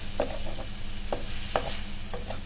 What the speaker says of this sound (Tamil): போட்டு நல்லா கிண்டி விட்டுக்கணும்